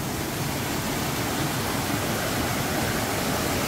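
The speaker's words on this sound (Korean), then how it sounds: "폭포에 폭포." Waterfall on a narrow mountain valley stream at Yumyeong Valley, Gapyeong, heard close up as a steady, full roar of rushing water with no voices.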